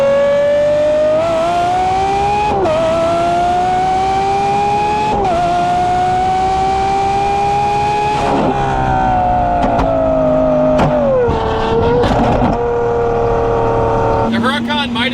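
A straight-piped Lamborghini SVJ with a 6.5-liter V12 roars loud and close, its pitch climbing through long pulls and dropping at each shift, ending in crackles.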